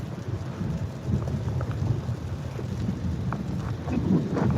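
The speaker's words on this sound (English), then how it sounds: "Not the rain on the ground and the concrete and the asphalt and all the steam coming off." Rain and thunderstorm falling on ground, concrete and asphalt, a dense steady hiss with low rumbling underneath, swelling slightly toward the end.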